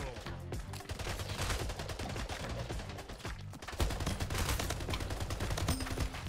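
Rapid gunfire in the video game Splitgate, dense continuous bursts of shots with automatic-fire rattles, loud and steady throughout with game sounds layered in.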